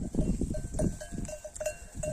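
Sheep and lambs in a barn, with repeated short bleats over a low shuffling background and a faint bell clanking now and then.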